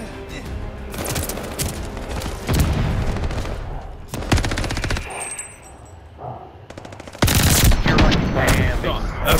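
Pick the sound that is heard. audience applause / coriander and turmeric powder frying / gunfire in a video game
gunfire in a video game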